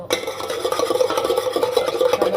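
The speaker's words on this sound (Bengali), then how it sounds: "একটু নাড়িয়ে এখানে" A spoon stirs a sweet yogurt (mishti doi) mixture, making close, continuous scraping and rubbing strokes in a quick, steady rhythm with no voices.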